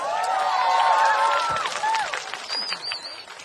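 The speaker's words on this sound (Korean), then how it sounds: "다시 한번 큰 박수 부탁합니다" Audience at a mountain-village school concert clapping and cheering for a singer, a steady crowd wash with voices rising over it, fairly loud and fading toward the end.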